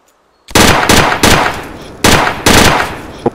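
Suppression gunfire in the SWAT raid video game Island Life: a series of five loud, close bursts of rapid automatic fire with short gaps between them, following a moment of near silence.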